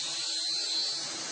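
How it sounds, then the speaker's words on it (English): A spinning diamond-dust wheel grinding the edge of a zirconia ceramic knife gives a brief, thin, high-pitched whirring hiss at moderate level, steady with no pauses. "Using a spinning wheel coated in diamond dust, they slowly grind away the hardened zirconia to create a razor-sharp edge"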